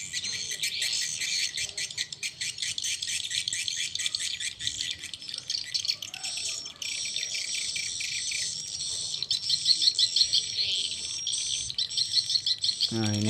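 Swiftlet mating call, a continuous high, buzzing chatter of rapid chirps and trills that keeps on without a break and grows slightly louder toward the end, heard alone without talk.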